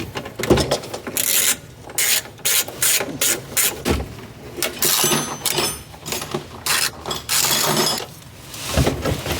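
A ratchet with a torque set undoes bolts on the dash of a race truck during cab work, giving repeated rasping, clicking bursts in short runs with brief pauses, close and fairly loud.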